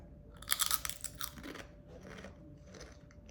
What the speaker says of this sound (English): So I'm gonna open it and so it looks just like normal like potato chips. As you can see, time to taste.